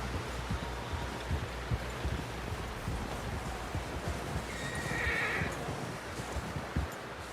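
A horse in the Red Dead Redemption 2 video game whinnies briefly over a dense, continuous bed of hoof clatter and rustling ambience.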